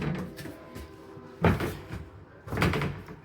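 The front door of a newly moved-into, unfurnished house being handled, with two solid wooden thuds about a second apart against a quiet room.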